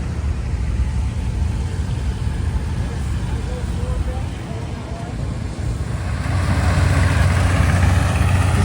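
A 1954 McCormick 141 combine's engine runs steadily at an outdoor antique farm machinery show, a broad rumbling drone close by that swells a little louder toward the end.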